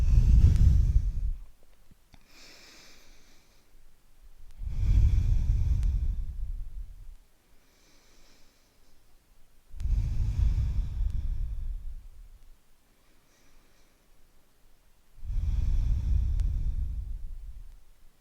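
Slow, deep breathing during a vinyasa yoga flow, four long audible breaths spaced evenly about five seconds apart, close and soft, with no talking.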